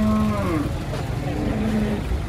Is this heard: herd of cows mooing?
yes